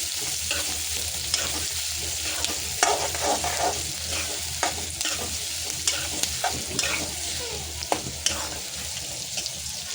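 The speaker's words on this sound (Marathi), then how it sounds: "कांदा थोडा ब्राऊन होईपर्यंत आपल्याला परतायचा आहे" Onion, garlic and chili browning in a pan, a constant sizzle with frequent clattering stirs and scrapes of a utensil, close and steady over ten seconds, no speech.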